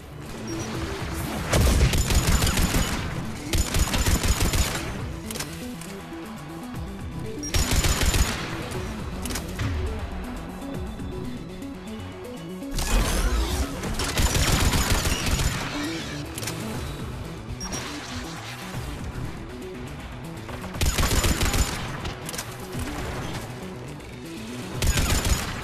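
Bursts of turret gunfire in Mass Effect 3, loud rapid volleys recurring every few seconds with heavy booms beneath, and voices talking in between.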